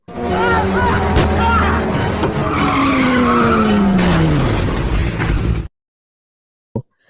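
A car skids to a stop with a long, loud tire squeal that bends downward in pitch over a roaring engine, then cuts to silence broken by one short knock.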